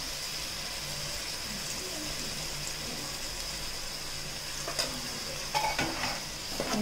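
Minced mutton sizzles and fries in a pan for nombu kanji while a spoon stirs it, a steady soft crackle with a few sharp metallic scrapes and clinks near the end.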